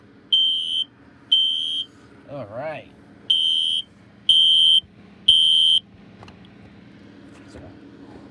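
A Spectral Alert Classic fire alarm under test gives five loud, piercing electronic beeps at an even pace over a steady background hum, with a short warbling tone and a brief spoken word in between.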